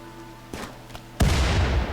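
In the colony game Rimworld, a firefight crackles with a couple of sharp gunshots before a loud blast erupts and rumbles on, explosive and close, with no talking.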